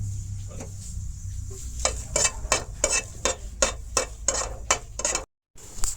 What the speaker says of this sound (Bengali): এখানে কয়েকটা শুকনা মরিচ ভাজিলেন।